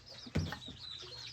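Close chickens give a brief cluck or two, a sharp squawk followed by softer clucking, at a family meal outdoors.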